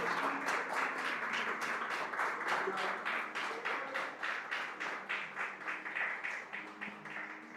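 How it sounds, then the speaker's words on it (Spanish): A church congregation claps during a Spanish-language Christian sermon, a steady patter of many hands with a faint rhythmic pulse emerging toward the end, moderately distant and sustained throughout. "¿Cuánto le dan un fuerte aplauso a nuestro Dios?"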